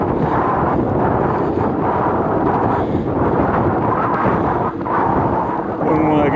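Strong, steady wind buffets the microphone while cycling into a headwind on the outskirts of a hometown, a loud rumbling roar that fills the whole stretch with brief dips.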